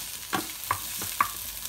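Onion and garlic sauté in a pan for pasta sauce, a gentle sizzle broken by three quick stirring scrapes, close and quiet.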